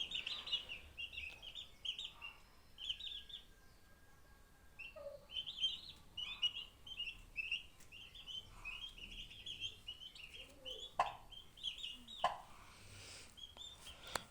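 Young turkey poults peep in thin, high, repeated chirps, faint and overlapping, with occasional soft knocks in the background.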